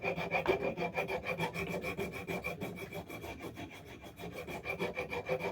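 A rasp working a wooden axe haft on a vintage New England axe, steady rhythmic back-and-forth filing strokes, close and alone with no talking.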